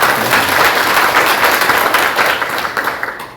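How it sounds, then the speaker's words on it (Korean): Audience applause at a National Assembly member's opening address, a steady dense clapping that carries loudly through the whole stretch and tapers slightly at the end, with no voices over it. "박수 한번 좀."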